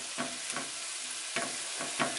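Flour stirred into a mixture in a pan over medium heat for shepherd's pie, a soft sizzle under a few scraping stir strokes that come in short, irregular passes, close and quiet.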